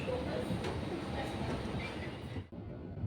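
A train at the Subang Jaya KTM and LRT station in Kuala Lumpur gives a faint, steady rolling hum with a brief sharp click near the end, heard from the station among soft background noise.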